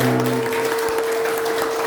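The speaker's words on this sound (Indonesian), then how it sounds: "Tepuk tangan untuk anak-anak kelas 6." Steady applause for grade 6 pupils at an Indonesian primary school farewell ceremony, a dense even patter of many hands under a sustained tone, at moderate level throughout.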